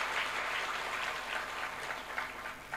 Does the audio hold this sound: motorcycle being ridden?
no